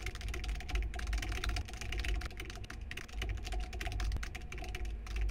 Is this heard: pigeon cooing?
no